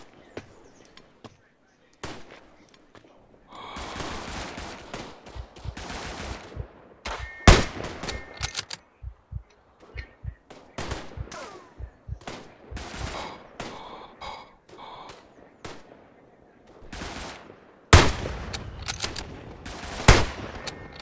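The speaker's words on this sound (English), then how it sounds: "Someone's shooting from somewhere." Gunfire from the WWI shooter game Tannenberg: bursts of rifle and machine-gun fire, some near and loud with sharp cracks, others more distant, irregularly spaced across the scene with short lulls and a voice briefly talking.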